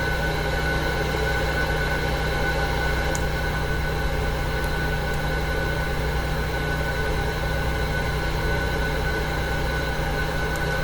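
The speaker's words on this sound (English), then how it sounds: "We'll hear the engine spooling up in a second." Airliner engine 2 starting in the Prepar3D flight simulator, a steady, loud tonal whine over a broad, unchanging rumble that continues without a break, with no talking.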